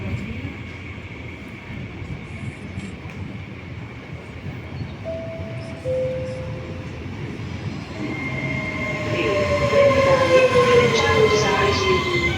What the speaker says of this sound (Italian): Train 9733 from Milano Centrale to Venezia Santa Lucina. with scheduled departure at 1616 is now arriving on platform 5.